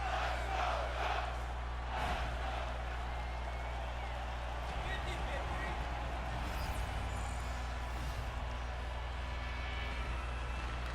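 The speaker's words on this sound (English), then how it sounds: "You can feel the energy in this crowd." An arena crowd roars steadily during an NHL 23 hockey video game, a dense wash of cheering under play-by-play commentary.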